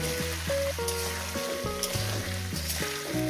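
Taro stolons frying in a pan with rohu fish make a steady, loud sizzle under background music, with occasional stirring.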